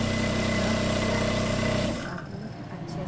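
Domestic sewing machine running a steady straight stitch along a pajama seam, a continuous loud motor hum with rhythmic needle chatter that cuts off abruptly after about two seconds, leaving quieter background.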